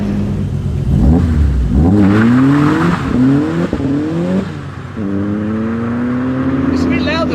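A turbocharged 1.8T 20V Seat Arosa making over 360 bhp revs hard in close, loud repeated rising pulls with sharp shifts between them, ending in a steady high drone, while people talk over it.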